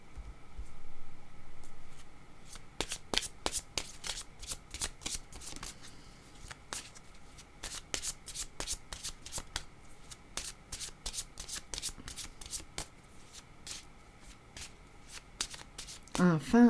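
Tarot-style cards shuffled during a card reading, a long run of crisp riffling snaps and soft flutters close up, with someone speaking quietly at times.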